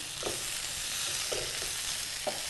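Potato and cabbage curry with a couple of spoons of coconut powder being stirred in a pan, a soft steady sizzle broken by three scraping strokes of the spoon.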